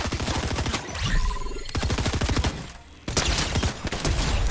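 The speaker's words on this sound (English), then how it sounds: "I gotta kill with the shotgun." Rapid gunfire from a video game shotgun in Fortnite, loud and dense, in repeated bursts that fill the clip with brief gaps near the middle.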